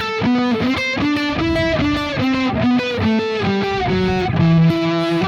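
Heavily distorted electric guitar playing a symphonic rock passage, with sustained, saturated notes and chords moving in a steady rhythm, loud and continuous throughout with no talking.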